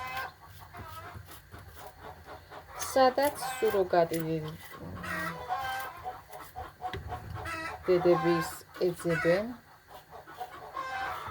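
Chickens cluck loudly and repeatedly near a residential street, with several bursts of excited clucking and squawking over continuous talking.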